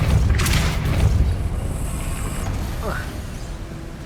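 A Depulso force spell cast in the game Hogwarts Legacy lands as a loud, broad whooshing blast with a low rumble, then fades into a steady ambient roar.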